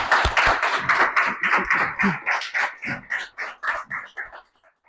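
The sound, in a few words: audience applause welcoming a seminar speaker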